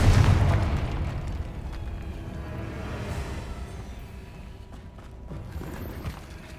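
A Confringo fire spell exploding in the Hogwarts Legacy video game, a loud low booming burst at the start that rolls into a long rumbling, crackling decay lasting several seconds.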